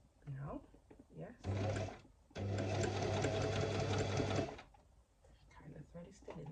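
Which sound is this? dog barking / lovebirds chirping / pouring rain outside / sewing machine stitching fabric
sewing machine stitching fabric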